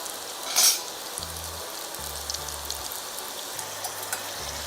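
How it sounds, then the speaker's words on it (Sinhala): Chicken popcorn pieces fry in hot oil with a steady, close sizzle, a brief louder splash near the start, and a few faint low clinks of a pan or utensil, with no talking. "ඊට පස්සේ අපි මේ චිකන් ටික මේකට දාලා fry කරගමු"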